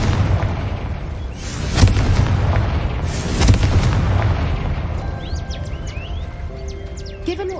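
In the video game Hogwarts Legacy, a Confringo spell triggers two heavy, booming explosions close by, each followed by rumbling debris, then the noise fades into chirping creature cries.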